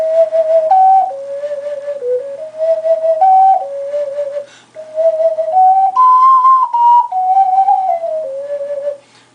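A solo ocarina plays a short melody of clear, pure whistle-like notes, stepping up and down in gentle phrases with a brief pause midway, close and alone without talk.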